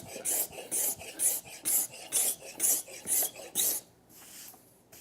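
A cabinet scraper smooths the top of a wooden board with about nine even, rhythmic rasping strokes up close, then stops, leaving faint quiet.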